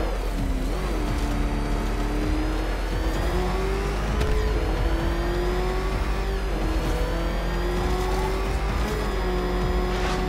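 A car engine racing in the Batman: Arkham Knight video game, a loud, sustained revving drone that rises and shifts in pitch with a steady, continuous roar throughout.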